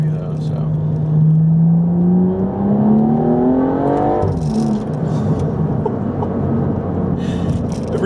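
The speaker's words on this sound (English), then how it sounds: "Go ahead, do another little second gear rip." A BMW 235i/335i/435i with a gutted interior and ZF8 automatic makes a second-gear pull: the engine note climbs steadily for about three seconds, then drops off at the shift, with road rumble and a voice talking over it.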